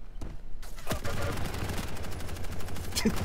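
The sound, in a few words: machine gun firing audio bug in Quake video game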